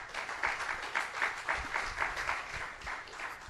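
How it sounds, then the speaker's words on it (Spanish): A church congregation applauds together in praise, a steady burst of clapping lasting several seconds with a rhythmic pulse, moderately loud and without talk over it. "Le damos un aplauso a nuestro Dios"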